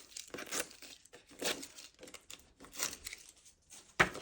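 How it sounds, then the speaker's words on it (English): Backing paper peels off adhesive foam pads for card making, producing soft, close crinkling and tearing rustles in several short bursts, with a sharper snap near the end. "So we're going to just peel the backs off of these."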